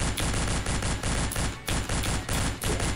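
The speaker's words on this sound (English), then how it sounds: "And then finish them off with like machine gun." Rapid machine gun fire from the video game Madness Deathwish 2, dense repeating bursts of loud shots with a few brief gaps, played alone without talk.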